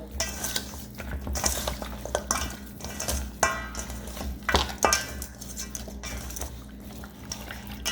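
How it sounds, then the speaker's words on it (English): Seasoned pork neck bones being stirred and tossed by hand in a bowl, with irregular wet squelching, clacks and bumps against the bowl, close and moderately loud, no speech. "I am going to mix it up"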